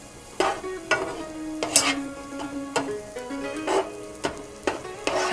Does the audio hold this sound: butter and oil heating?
yes